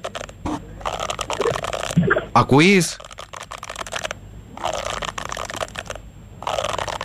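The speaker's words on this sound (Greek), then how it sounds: "αυτό το μουσικό όργανο που κάνει τον ήχο της βροχής" A cylindrical rain stick is turned in a studio, giving a soft granular rattle and patter that runs in stretches beneath nearby conversation.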